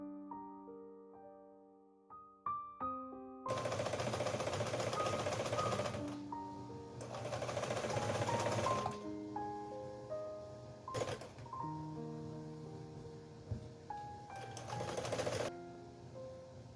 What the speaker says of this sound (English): now I have sewn the batting to the skirt front.